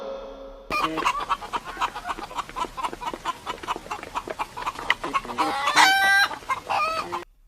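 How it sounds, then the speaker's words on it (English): Hens cluck busily and continuously, close and fairly loud, with a few sharper squawks near the end. "H for hen."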